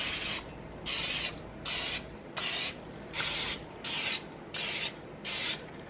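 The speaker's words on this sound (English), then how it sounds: "we're gonna take our non-stick spray and I'm gonna just make sure to spray each." Eight short bursts of non-stick cooking spray hiss onto a muffin pan in a steady rhythm, each lasting about half a second with brief pauses between, close and fairly loud.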